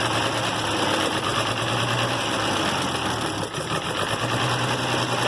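An IH Farmall 706 tractor engine idles after a carburetor adjustment, a loud, close, steady drone with a fast even chug that holds constant throughout.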